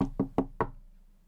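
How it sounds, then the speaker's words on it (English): Four sharp knocks on a wooden door in quick, even succession, close and loud, the last one followed by a fading resonance. "there was a knock at the door"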